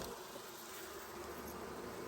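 Honey bees swarm over a hive frame during an apiary inspection, making a dense, steady, close buzzing drone that holds without pause and has no voices over it.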